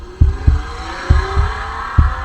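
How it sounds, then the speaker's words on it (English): A car speeds away in an audio drama scene, its engine a faint rising drone beneath steady, loud, low heartbeat-like thumps. "Bill smiles weakly as he hears Colin's car speed away"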